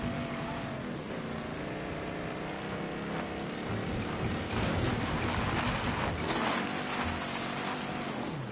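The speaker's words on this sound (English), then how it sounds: "Is it raining again?" Steady, dense rain falls in the Mafia 3 video game, a continuous hiss of drops on surfaces with faint low rumbles underneath and no talking.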